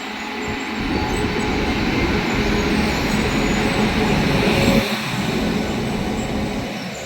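An Indian Railways passenger train hauled by a WAP-7 electric locomotive rolls past in a loud, continuous rumble of wheels and coaches, with a faint high squeal riding over the steady roar, easing slightly near the end.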